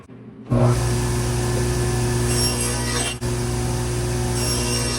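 A table saw cutting a groove in plywood starts with a sudden loud whine and keeps a steady, close, humming roar with one brief dip partway through.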